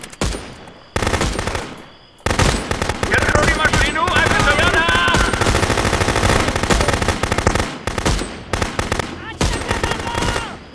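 Rapid automatic gunfire in the game Contraband Police, loud bursts of machine-gun fire rattling almost continuously with brief pauses between volleys.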